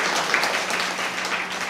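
An audience at a Tamil pattimandram comedy speech applauds in a dense, steady wash of clapping that holds at an even level throughout.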